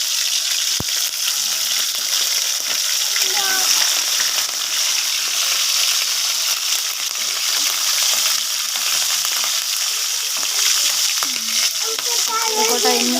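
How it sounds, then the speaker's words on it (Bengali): Food fries in a pan with a steady, close sizzle that runs without a break. Occasional scraping from stirring sits on top of it. "আর একটু ভালো করে ভেজে দিই।"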